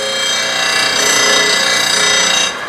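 An Apex 16-inch pedestal disc sander, model 16S, runs with a loud, steady whirring drone and a faint rubbing rasp; the motor tone stays constant before dropping slightly at the end.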